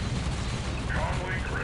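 Thunderfire cannon artillery thunders in a Dawn of War Unification 1v1 battle between Death Korps of Krieg and Salamanders: a steady, dense rumbling barrage with no clear gaps, under a voice talking.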